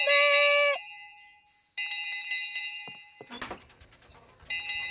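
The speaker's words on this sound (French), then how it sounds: "La cloche! La cloche!" In a cartoon, a dinner bell rings in bright, metallic bursts, a clear clanging ring at the start, then again after a short pause, and once more at the end, with small clunks in between.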